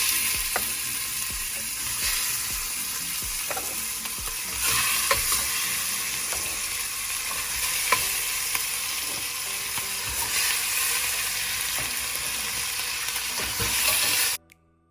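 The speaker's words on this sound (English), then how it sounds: "while the chicken is sizzling behind me" Steady, loud sizzling of chicken frying in hot oil, a continuous crackling hiss with a few sharper pops, cutting off abruptly at the end.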